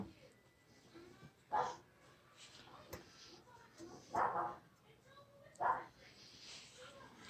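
Several house dogs bark in three sharp, separate bursts spread through a quiet indoor room, with faint whimpers and yips between them.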